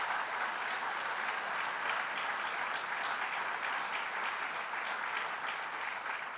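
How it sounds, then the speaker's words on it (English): Steady, dense audience applause fills a town hall, a continuous wash of many hands clapping at an even level throughout, with no voices standing out. "So give that team a round of applause for having done that."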